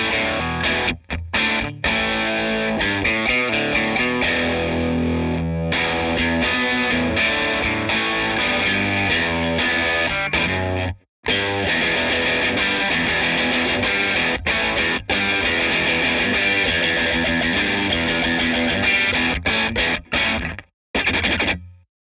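Distorted electric guitar in a basic early crunch tone plays chords and riffs with strong pick attack, loud and continuous with a few brief stops, no talking.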